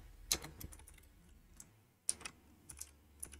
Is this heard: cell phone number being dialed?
no